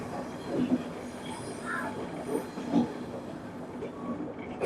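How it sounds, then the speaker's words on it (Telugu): A train passes at a railway yard where engines stand waiting, a low rolling rumble with brief wheel squeals and clatter, moderately distant, with faint voices in the background. "వెళ్తుంది ట్రైన్"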